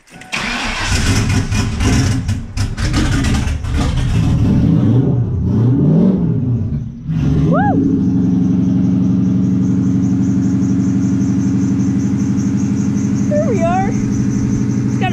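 A 2003 Cobra turbo engine with Megasquirt cranks and catches with some revving, then settles into a steady low-RPM rumbling idle, close and loud, with brief squeaky chirps near the end.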